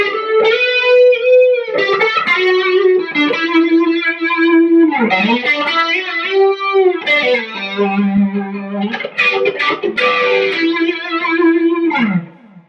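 An electric guitar played through a Strymon Mobius modulation pedal, set for a subtle funk sound, gives a lead line of sustained, gliding notes with a swirling, thickened effect and reverb, loud and close with no talking.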